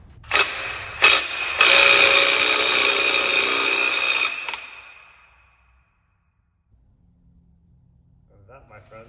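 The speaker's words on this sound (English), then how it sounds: "This is a rigid impact." A Ridgid impact wrench hammers on a Mazda RX7 13B rotary engine flywheel: two short bursts, then a longer loud rattling run of about three seconds that stops, followed by quiet and faint talking.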